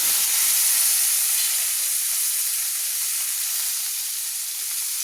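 Chopped onions frying lightly in oil in a pan for a Bengali rohu fish head and ghati kochu greens dish. A steady, close sizzle and hiss runs throughout, fading a little near the end, with no talking.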